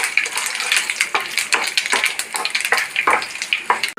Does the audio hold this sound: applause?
no